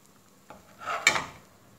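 Spices and butter being stirred in a curry pan for paneer curry, with a brief scrape and clink of a utensil against the metal pan at close range, alone and fairly quiet.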